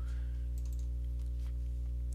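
Computer keyboard typing, a handful of light quick key clicks in an uneven rhythm, faint and close, over a strong constant electrical hum.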